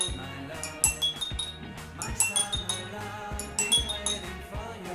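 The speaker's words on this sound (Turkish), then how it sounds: "İçindeki su doluluk oranları bize farklı sesler verebiliyor." Glasses filled with different levels of water are tapped in quick succession, giving bright clinking pings at varied pitches in a lively, uneven rhythm, close and clear.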